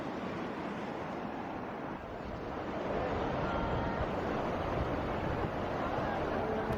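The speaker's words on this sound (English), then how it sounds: "the stream that we've been following all day long turned into a 300-meter high waterfall" A 300-meter-high waterfall in Vietnam, fed by a stream, roars as a steady, dense rush of falling water close by, unbroken for several seconds with some wind buffeting the microphone.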